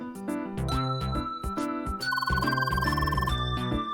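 In the video game CrossCode, a phone's ringing melody plays as a bright chime over a busy electronic game music track, loud and continuous, with no voices.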